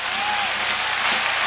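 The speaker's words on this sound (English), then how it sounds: "the crowd right now is beginning to cheer for Pitt" A football stadium crowd at a 1996 West Virginia versus Pitt game cheers for Pitt in a broad, steady roar of applause and voices that fills the whole moment.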